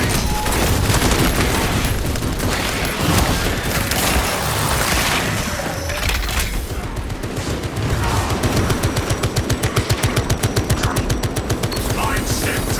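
Servo sentry gun in a video game firing rapid automatic bursts, loud and close, building into a steady, evenly spaced stream of shots with mechanical whirring and booms mixed in.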